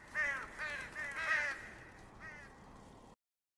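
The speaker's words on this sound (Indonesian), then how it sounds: "Ketika Gui Chen keluar dari tenda Mengle, dia melihat burung gagak terbang di langit" A crow in a kung fu film scene caws several times in quick succession, fairly close and clear, then a weaker final call before the sound cuts off.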